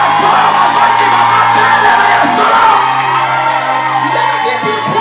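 A large worship crowd at a charismatic church gathering shouts and whoops loudly and continuously, a dense roar of many voices with strong echo and no pause.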